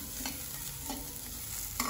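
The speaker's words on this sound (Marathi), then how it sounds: "पण इथे नुसत्या गरम कढईमध्ये सुद्धा कांदा छान परतला जातो." Chopped onion being stirred and roasted in a dry hot kadhai with no oil, a soft steady sizzle broken by a few brisk scraping strokes of the spoon, close and quiet.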